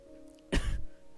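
A single short, rough cough or throat-clear bursts out close to the mic, breaking an otherwise quiet room tone with a faint steady hum underneath.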